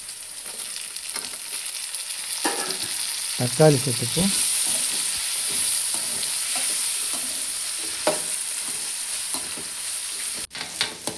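Steady sizzling of onions sautéing in a pan for fish curry, with occasional stirring scrapes, while a voice speaks briefly in the middle.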